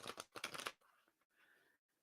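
Tarot cards are shuffled by hand in a few quick, papery riffling bursts, followed by a softer, fainter rustle as the deck settles. The sound is close, quiet and heard alone.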